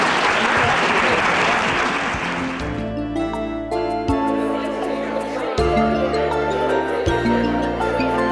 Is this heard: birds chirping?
no